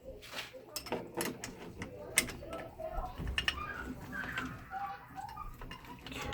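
A ratchet wrench tightens a bolt on a KE102 engine, giving quick bursts of small, close clicks with scraping metal handling and faint murmured talk in between.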